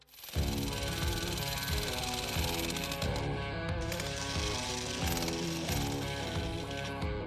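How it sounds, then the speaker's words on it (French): A jackhammer digs through rock while kilometres of cave tunnels are carved out, making a steady, fairly loud mechanical rattling and clattering that runs on with a repeating rhythm. "ce marteau-piqueur, les gens travaillent chaque jour. En creusant des kilomètres de cavernes."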